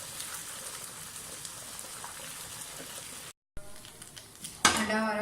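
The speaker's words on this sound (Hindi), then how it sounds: "अंडा हमारा फ्राई हो गया" An egg sizzles and crackles in a pan for a fried rice recipe, a soft steady frying hiss that breaks off briefly and comes back. A voice starts speaking over it near the end.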